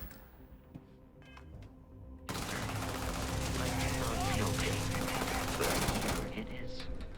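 A submachine gun in a space exploration video game rattles off a long, dense burst of rapid shots that starts abruptly after a quieter stretch with some faint talk and lasts several seconds before tapering off.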